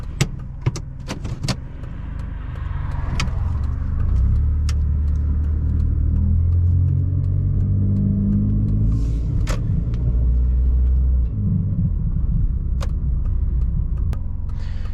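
A 2002 Mitsubishi Lancer drives and makes a U-turn, heard from inside as a steady low engine and road rumble with scattered clicks and small interior knocks, fairly loud and without talk.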